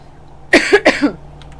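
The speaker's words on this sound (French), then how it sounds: "Excusez-moi, je suis désolée de vous tousser dessus" Two sharp coughs in quick succession, close and fairly loud, followed by a faint trailing breath.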